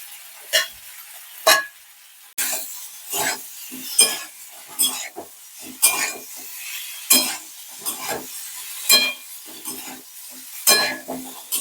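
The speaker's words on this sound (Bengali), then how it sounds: "একটু কষিয়ে নিই তারপরে জল দেবো" Food is sautéed in a pan before water goes in, heard as repeated bursts of stirring and sizzling with spatula scrapes against the pan, separated by quieter gaps, all close by and with no talking.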